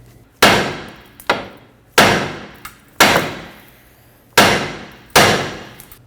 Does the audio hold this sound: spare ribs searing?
no